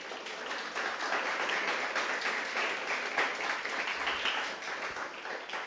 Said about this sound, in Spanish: ¿Cuántos le pueden dar un aplauso hasta aquí al Señor?